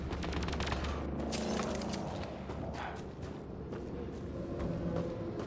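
Continuous gunfire from a firefight in the video game Mass Effect Andromeda, a dense, steady rattle of shots and blasts mixed with rumbling background action, no clear pauses throughout.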